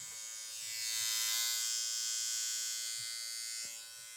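A Philips OneBlade electric trimmer runs with a steady, high-pitched buzz continuously for a few seconds, close and fairly quiet, with no voices.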